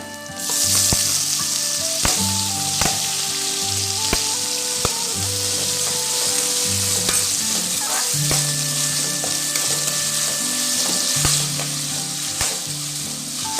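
Onions and tomatoes sauté in a pan for a Badaga-style garlic gravy, a dense, loud, continuous sizzle with a few sharp stirring clicks over it.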